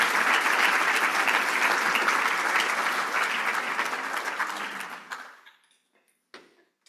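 A room full of guests claps at a PharmD Class of 2024 awards celebration honoring preceptors, a strong sustained ovation that thins and tapers off, leaving a few last scattered claps at the end.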